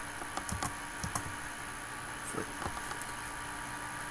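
Typing on a computer keyboard: scattered quiet key clicks in short bursts and single taps against a steady low electrical hum, no talk.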